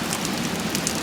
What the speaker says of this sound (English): But there's hail right there